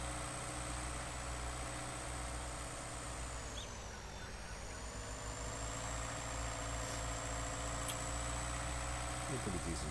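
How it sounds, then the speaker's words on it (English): A tractor engine in the farming game Farming Simulator 19 hums steadily at a low idle, its droning pitch dipping briefly and then recovering, with no other sound over it. "It's a pretty decent tractor to start."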